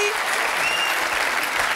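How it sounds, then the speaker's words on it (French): Brief burst of studio audience applause on a French television show, continuous even clapping at moderate loudness. "Et on applaudit très fort Sophie."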